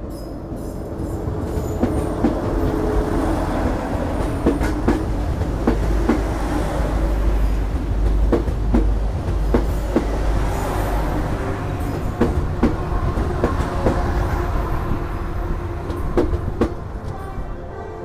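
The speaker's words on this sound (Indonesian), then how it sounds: "Yang akan masuk di jalur 3 merupakan kereta lokal komuter line Sindro dari stasiun Indro atau Gresik menuju ke stasiun Sidoarjo." Commuter Line Sindro local train from Indro toward Sidoarjo pulls into platform 3, a steady close rumble of wheels on track with rhythmic clacking over rail joints and occasional squeals, continuing throughout.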